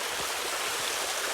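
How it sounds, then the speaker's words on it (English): A creek runs beside a hiking trail, giving a close, steady babbling flow with light trickling and splashing detail throughout, no voices. "We have a creek beside us here"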